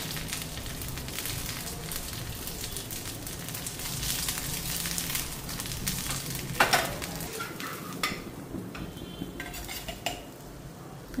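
Egg-dipped bread toast, made with two eggs and boiled potato, fries in a pan with a steady low sizzle, punctuated by clinks and scrapes of a utensil against the pan.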